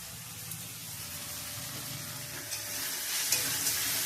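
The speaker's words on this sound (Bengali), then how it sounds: "মাংসের তরকারি বসিয়ে দিয়েছি" Meat curry cooking in a pan gives off a steady, moderately loud sizzle, with a few faint stirring clicks near the end and no voices.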